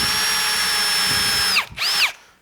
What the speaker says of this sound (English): So what I'll do is I will pre-drill a couple holes.